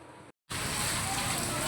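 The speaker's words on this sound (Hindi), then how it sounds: "आंधी और बारिश, बिजली कितनी चमक रही है" Heavy rain and strong wind in a night thunderstorm, a dense steady roar that fills the clip after a brief cut near the start.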